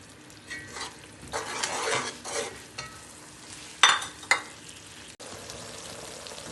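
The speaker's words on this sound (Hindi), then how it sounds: "अब इसमें बादाम और गरी वगैरह डाल के अच्छी तरह जो है ना ज़रा थोड़ा सा इनको रोस्ट टाइप कर देंगे, भून लेंगे थोड़ा सा" Almonds and dried coconut roast in sugar syrup in a pan for mutanjan, heard as bursts of scraping, stirring and sizzle with a couple of sharp metallic clinks, close and uneven, then a quieter steady hiss.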